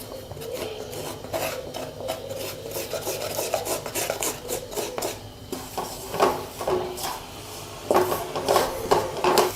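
Flour is stirred into melted butter in a pan to make a roux for Italian-style pasta cooked over charcoal, producing repeated close scraping and rasping strokes of a spoon against the pan, steady and fairly loud.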